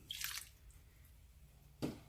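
Liquid is poured into vegetable beef soup in a Power Pressure Cooker XL, giving a brief close splash and squish, then a quiet lull and a second short splash near the end.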